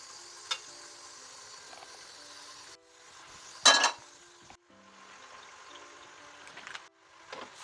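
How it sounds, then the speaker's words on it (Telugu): Tempering sizzles in hot oil in a pan for semiya pulihora, with peanuts going in: a steady close crackle with a sharp burst near the start, a louder surge midway and a final flare. "సేమియా పులిహోరకి తాలింపు పెడుతున్నా."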